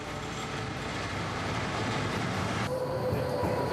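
A tram rumbles steadily along rails on a city street in Zurich, with a constant low roar and a faint high squeal joining near the end; no voices.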